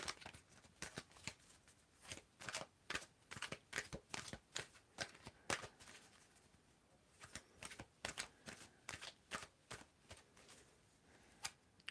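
Tarot cards are shuffled close up during a reading, quiet papery riffles and taps arriving in irregular bursts with short pauses between them, and no talking.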